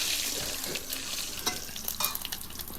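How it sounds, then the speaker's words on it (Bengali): Cumin seeds, dried red chillies and bay leaves sizzle in hot oil, a close, crackling fry with scattered pops and a stirring scrape. "তেল গরম হয়ে গেছে, ফোড়নে জিরে, শুকনো লঙ্কা,"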